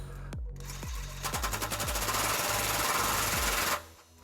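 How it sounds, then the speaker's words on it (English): Rapid ratcheting burst from a 22mm socket driving a trailer hitch bolt on a 2004 Lexus LX470, loud and close, a fast mechanical clatter lasting about two and a half seconds before cutting off abruptly. "Now we're going to take our socket for our next bolt. This is a 22mm socket, and we're going to tighten this"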